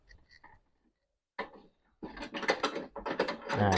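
Bolts being loosened and removed by ratchet on a 2023-2024 Honda Wave 125 motorcycle while fitting an LED flashing brake light; close, quick ratcheting clicks come in bursts after a short quiet gap.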